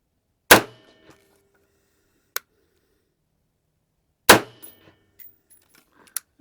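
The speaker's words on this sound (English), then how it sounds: "5 shots with the IMI 193, M193." Two sharp rifle reports from M193 ammunition (IMI) at a range, the first loud and close near the start, the second a few seconds later, each with brief ringing decay and a faint click between.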